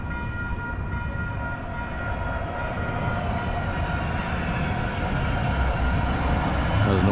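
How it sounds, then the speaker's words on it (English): A northeast commuter train heads into downtown Calgary, rumbling steadily past at close range with a broad, even roar that builds slightly toward the end. "Another northeast train heading into downtown."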